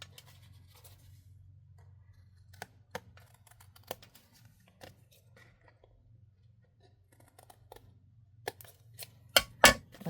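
Card pieces for a handmade thank-you card are trimmed with scissors in a quiet room, giving faint sparse snips and paper rustles that grow into a few louder, sharper cuts near the end, over a low steady hum.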